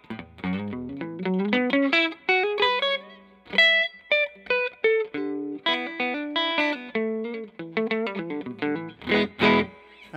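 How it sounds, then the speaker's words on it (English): A 1966 Univox UC2 offset electric guitar plays a melodic line through the clean channel of a regular amp, with distinct plucked notes and chords at a steady, moderately loud level, without any talking. "That's the sound of it into the regular amp."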